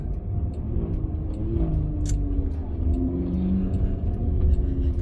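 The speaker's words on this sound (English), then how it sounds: "We are in heavy traffic." Car driving in heavy traffic on a four-lane street, a steady low engine and road rumble with slight swells and a brief faint tick.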